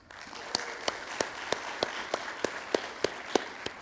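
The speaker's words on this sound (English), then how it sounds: "Let's give a round of applause to our sponsors," Light applause from a small audience, with a few distinct hand claps repeating at a steady pace over a soft crowd murmur.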